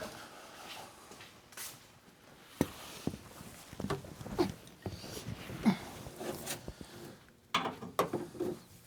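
Ratchet and wrench clicks while removing a sway bar end link on a lifted Jeep, scattered sharp metallic ticks and clunks at close range, fairly quiet, with no talking.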